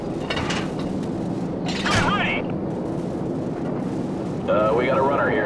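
Secondary explosions rumble across the field in Call of Duty 4, with distant booming blasts under steady battle noise while radio voices speak over the action.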